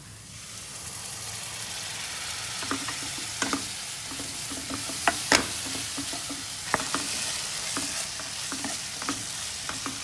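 Spice masala paste with dry mango powder poured into a hot pan for dhaba-style chana masala. It fries with a constant close sizzle, and light scraping taps of stirring are scattered through.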